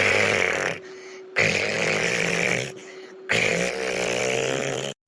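Heavy snoring from a woman asleep at home after a tiring day's work, in three long, loud, rasping breaths separated by short pauses, with no talk.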